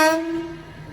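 A TransPennine Express Class 350 electric multiple unit at Crewe on the West Coast Main Line sounds a loud, close horn blast that fades quickly into rail rumble.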